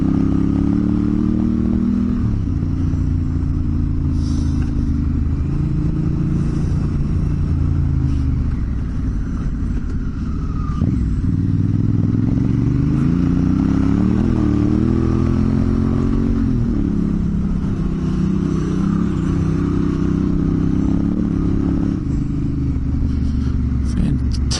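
A 650 motorcycle ridden along country tracks, its engine droning loud and steady throughout, pitch rising and falling as the rider works the throttle over bumps with some clatter.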